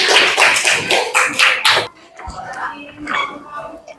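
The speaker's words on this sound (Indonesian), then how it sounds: "Kasih tepuk tangannya." Short burst of applause in a classroom microteaching session, several hands clapping quickly and loudly for about two seconds, followed by quieter talking.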